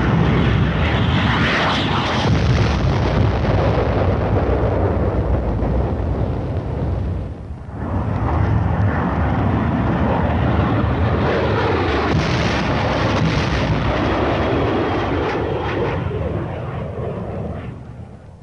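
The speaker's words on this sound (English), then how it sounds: "The deadly napalm is dropped in a veritable blanket of destruction over the enemy's position." Aircraft engines roar close overhead while dropping napalm on dug-in enemy positions, mixed with heavy rumbling blasts. The loud wash fades briefly midway, surges again, then tapers off at the end.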